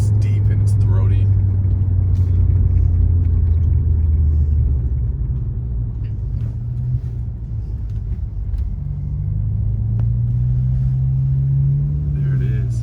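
An Alfa Romeo Giulia engine fitted with a Madness Monza exhaust idles with a deep, steady low rumble that swells slightly in the second half, close by, with voices briefly heard over it.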